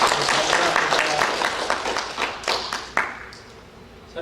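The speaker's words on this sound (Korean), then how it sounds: "주님께 감사의 박수 한번 이 시간 올려드리겠습니다" A church congregation bursts into a dense round of applause in thanks, steady and full, then gradually thins out toward the end.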